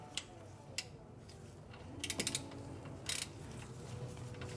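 A socket ratchet tightens a bolt on a Cadillac Escalade: quick bursts of close metallic pawl clicks in two short runs, against a low shop-like background with no talking.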